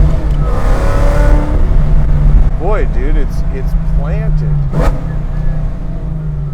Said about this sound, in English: that exhaust is so snappy. The whole engine just snaps.